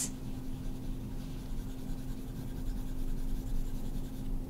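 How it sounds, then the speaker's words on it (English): A stylus rubs across an iPad screen while the eraser tool clears handwritten text, giving a soft, continuous scratchy friction sound up close, steady for several seconds with a low background hum. "we're just going in and erasing all that text"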